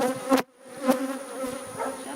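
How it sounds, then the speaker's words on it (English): Steady insect buzzing with a constant droning hum, close by, with a couple of brief louder swells as the bees pass near. "2 bees have tried to sting me"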